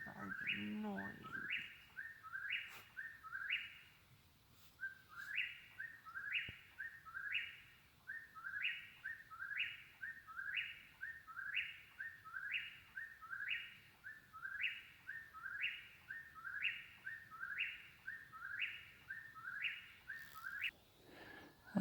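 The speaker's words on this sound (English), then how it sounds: "I know, Birdie, that bird's annoying." A small bird at a forest campsite chirps over and over in quick, evenly spaced bursts of bright high notes, loud and persistent for about twenty seconds against quiet woodland background.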